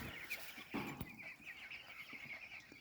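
Chickens in a farm field clucking, with a few soft calls scattered over steady outdoor background noise and no talking.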